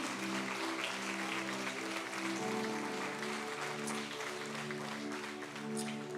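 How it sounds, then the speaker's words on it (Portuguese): Church congregation applauding the Lord during a service, a soft, sustained wash of clapping heard over a steady sustained musical tone, distant and fairly faint. "Você pode dar um aplauso bem forte ao Senhor?"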